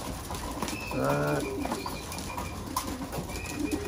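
Pigeons kept in a loft in Japan give a soft, rolling coo in a short burst over a steady background hum, and fainter bird sounds follow.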